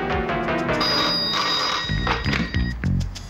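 A telephone bell rings loudly and repeatedly in a scene from a 1990 Hindi film, with several close, insistent rings in a row and no speech.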